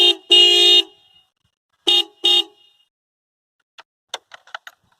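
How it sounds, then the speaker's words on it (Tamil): A Honda Unicorn motorcycle fitted with a melody maker horn set sounds two pairs of loud, bright honks separated by a pause, followed by a few faint clicks. "நான் ஹார்ன் அடித்து காமிக்கிறேன் பாருங்கள்."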